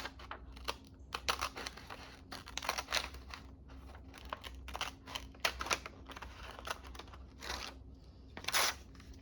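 Paper is cut out with scissors: close, quiet snips and crinkles that come in irregular bursts, with soft rustling of the sheet between cuts and no voice.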